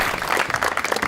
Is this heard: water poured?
no